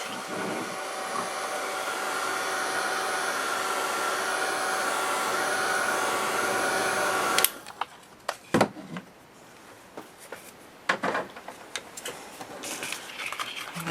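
A dryer blows steadily and loudly on a handmade craft mini album for about seven seconds and then cuts off abruptly, leaving a few close taps and handling knocks.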